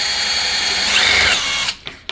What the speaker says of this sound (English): Put your drill in.